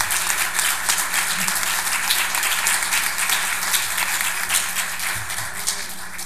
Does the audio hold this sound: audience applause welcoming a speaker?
yes